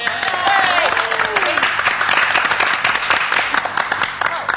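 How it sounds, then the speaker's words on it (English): A studio audience on a comedy show gives a round of applause for John Bolls, a steady close wash of clapping with voices and a whistle-like tone briefly over it. "we'll have another round of applause, please, for Mr. John Bolls."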